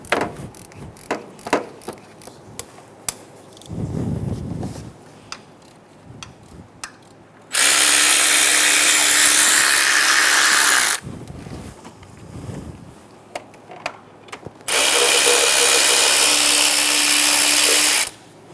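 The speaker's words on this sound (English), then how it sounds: "You're going to use a 10mm socket to remove all of the bolts for the lower timing cover." A power tool with a 10mm socket removes the lower timing cover bolts on a 2003-2007 Honda Accord, with two loud, steady whirring bursts of several seconds each between quieter clicks and handling noises.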